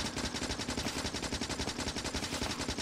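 Continuous rapid automatic gunfire in Factorio as medium biters are shot, a dense, steady stream of close shots with no pauses and no talk.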